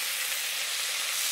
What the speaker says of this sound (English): And we're gonna put some cooking sherry in it,